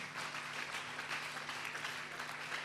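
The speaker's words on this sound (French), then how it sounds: "Est-ce que nous pouvons acclamer très fort?" A church congregation applauding, a dense continuous patter of many hands clapping at once, steady and moderately loud throughout, with no voices standing out.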